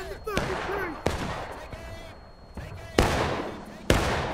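Rifle volleys crack out in the Civil War game War of Rights, several sharp loud broadband bursts scattered among distant shots, with shouted voices in between.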